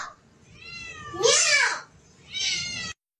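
A cat gives two drawn-out meows, the first rising and falling, the second shorter, loud and close in a quiet room.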